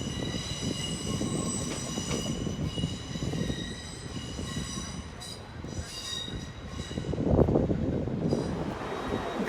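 A train pulls out of Exeter St David's station, wheels squealing and rumbling under a steady high tonal whine, the roar swelling as it passes close before easing off.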